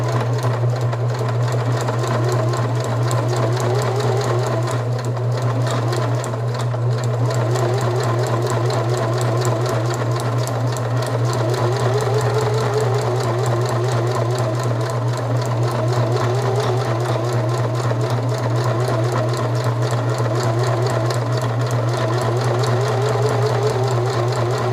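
A sewing machine runs continuously, stitching elastic into a cowboy hat made from a beer box, with a steady close mechanical hum and rapid needle clatter and no talk.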